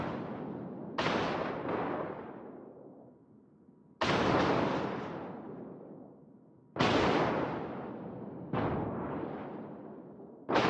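Heavy naval guns firing in World of Warships, a warship battle: booming salvos arrive in four big blasts a few seconds apart, each with a long rolling decay, loud and close with no talk.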